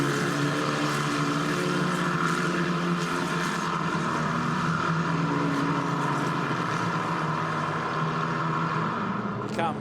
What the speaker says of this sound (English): the cars work their way up towards the Bilstein curve for the last time